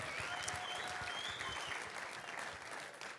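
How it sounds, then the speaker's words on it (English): An audience at a contemporary praise service claps in sustained applause, a dense, even patter of many hands filling the room for a few seconds. "let's give her a round of applause"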